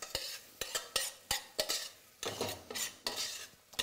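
Onions being stirred in a hot pan for lager and lime mussels, with a steady run of sharp scraping strokes against the pan over a faint sizzle.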